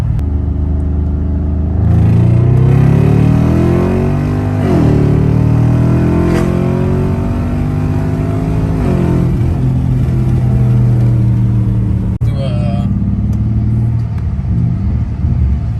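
BMW F10 550i with the twin-turbo N63 V8 pulls hard in second gear, a loud, close engine drone rising steadily in pitch, dipping at a shift, then climbing again under heavy load.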